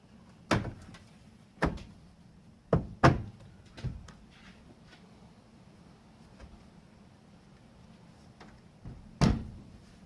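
A ZK Ford Fairlane door is handled during interior trim work, producing about six separate sharp knocks and thunks at irregular intervals. The sounds are close by, with a faint steady hum between them and no speech.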